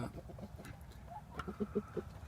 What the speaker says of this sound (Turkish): Horozumuz çağırıyor şu an tavuklarını ama ne gördü bilmiyorum.